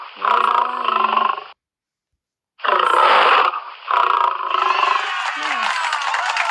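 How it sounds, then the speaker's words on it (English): A lion roars in a few loud, gravelly bursts separated by a short silence, heard up close, with the sound used as an animal-sound example for children. "Where is a lion?"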